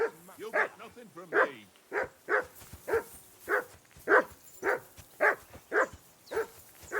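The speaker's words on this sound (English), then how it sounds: "I assume you can hear that damn dog of yours barking." A dog barking over and over in the medieval game Kingdom Come Deliverance 2, loud, sharp, evenly spaced barks close by, with a voice speaking briefly at the start.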